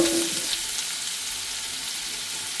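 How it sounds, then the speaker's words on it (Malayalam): Chopped small onions and shallots fry in hot oil in a pan for a chicken roll masala, giving a steady, close, broadband sizzle that holds level throughout with no talking. "പാൻ അടുപ്പത്ത് വെച്ചിട്ട് അതിൽ ഓയിൽ ഒഴിച്ച് കൊടുത്തിട്ടുണ്ട്. കുറച്ച് ചെറിയ ഉള്ളി, സവാള ചെറുതാക്കി അരിഞ്ഞു."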